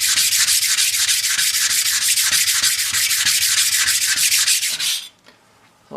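An oil sharpening stone is rubbed clean by hand, a loud close rasping scrub in quick regular back-and-forth strokes for about five seconds before stopping abruptly into near silence.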